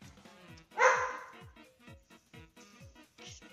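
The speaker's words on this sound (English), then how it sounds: "She has such like a loud bark." A female dog barks once, loud and close, indoors near a kitchen while food is being cooked. A repeating background tune plays before and after the bark.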